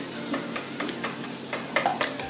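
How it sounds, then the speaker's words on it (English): Eggs being stirred by a child for homemade pancakes, with a steady run of light clinks and scraping strokes in a bowl close by, a few sharper taps standing out near the end. "Kayla's mixing the eggs."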